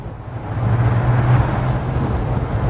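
Interior of a four-speed car fitted with Beetle seats, the engine rumbling steadily and loud from inside the cabin as it drives along with road noise, no voices.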